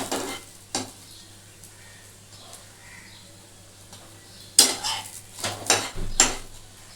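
Chana dal puri fries in oil in a pan with a soft sizzle, broken by sharp clinks and scrapes of a metal utensil against the pan, mostly in the later seconds.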